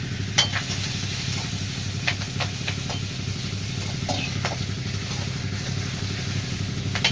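Garlic cloves sautéing in a pan for a thuthuvalai kuzhambu, a continuous moderate sizzle with occasional sharp clicks of a ladle and a low hum beneath.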